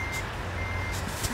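Reversing beeps from a truck in American Truck Simulator, a faint repeating electronic beep over a steady low diesel engine idle.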